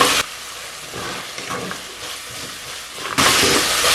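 Cloves, cardamom and cinnamon sauté in a pan for spicy black chicken kulambu with a close, steady sizzle. Louder bursts of hiss come at the start and end, and stirring noises sound in between.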